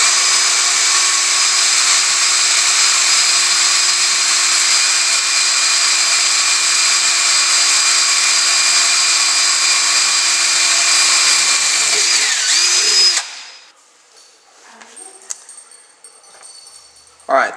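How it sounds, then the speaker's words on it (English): A power drill whines steadily at high speed for about twelve seconds while drilling a hole for a homemade electric generating turbine, then cuts off, leaving faint clicks and handling noises. "I'm just going to use a drill"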